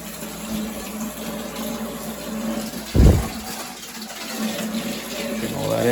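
Water and trapped air purge through a hose from a boiler system during a boiler replacement, a low steady gush broken by one sharp sputtering burst, close by with faint voices in the background.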